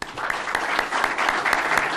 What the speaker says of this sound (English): Please help me support and applaud this excellent panel.